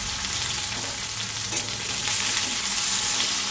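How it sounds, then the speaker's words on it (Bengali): Onion, tomato and green chilli stir-frying in hot oil in a wok with bay leaf and cumin, giving a dense, steady close-up sizzle that continues evenly throughout with no voices. "এটা এখন ভালো করে নাড়াচাড়া করে ভেজে নিই।"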